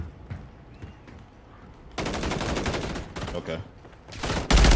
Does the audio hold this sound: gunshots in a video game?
yes